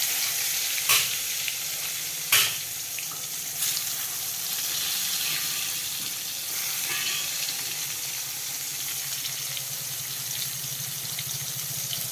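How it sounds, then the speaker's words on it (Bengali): Eggplant slices frying in a pan of hot oil, a steady close sizzle running throughout with a couple of sharp clatters near the start. "এখানে তেল বসিয়েছি বেগুনটা ভেজে নেব এবার বেগুন ভাজা"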